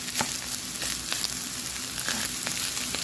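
Bitter gourd fries in oil with a constant crackling sizzle and frequent small pops, close and even, with no voices.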